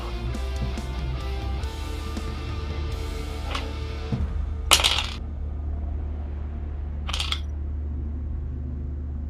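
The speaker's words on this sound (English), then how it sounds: "We love hearing the sound of dice." Dice roll and clatter on a table during a tabletop role-playing game, two brief rattling bursts some seconds apart over a steady background hum.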